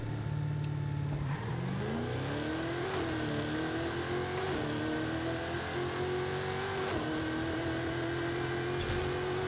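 A 1500-horsepower drag-tuned Ford Mustang Boss 302 launches down a quarter-mile drag strip in Forza Horizon 5, its engine note climbing steadily through the gears with brief dips at each shift, loud and continuous.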